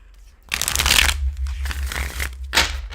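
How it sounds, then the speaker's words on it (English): Tarot cards are shuffled close up in quick riffling bursts, three crisp papery flutters over a few seconds with brief pauses between them and a low background hum. "nice shuffle"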